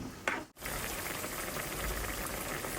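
A pot of bottle gourd stew (sorakaya pulusu) with green chillies bubbles at a rolling boil, a steady soft wash of bubbling after a brief knock and cut near the start, fairly quiet and close.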